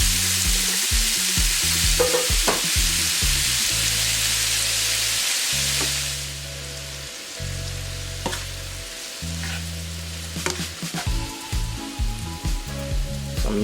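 Lobster tails sauté in a pot over medium heat for curry coconut lobster, giving a loud, steady broadband sizzle that settles after a few seconds, with occasional utensil clicks and low background hum throughout.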